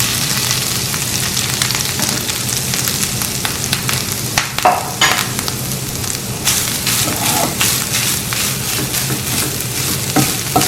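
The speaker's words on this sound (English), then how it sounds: "So I'm going to add my coconut into this." Coconut is added to sweet plantains frying in ghee in a pan, giving a continuous close sizzle with scraping and stirring clatters scattered throughout and no talking.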